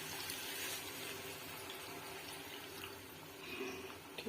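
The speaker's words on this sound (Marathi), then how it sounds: "भाजीमध्ये थोडं आपण पाणी ॲड करून घेऊया।" Water being poured into a simmering paneer curry in a pan, a continuous soft rushing splash that holds steady for a few seconds, close and fairly quiet, with no voices.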